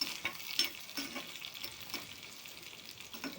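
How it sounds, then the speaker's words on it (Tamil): Small shallots sauté in a pan on the way to golden brown for a spicy sardine curry, giving a soft, continuous sizzle with faint scraping stirs. "சின்ன வெங்காயம் இதை மூணையும் போட்டு நல்லா பொன்னிறம் ஆகும் வரை நல்லா வதக்கிக்கணும்"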